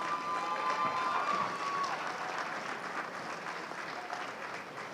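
Sustained applause from a crowd at a fall afternoon commencement ceremony, a dense wash of clapping that holds loud and even, then eases slightly toward the end.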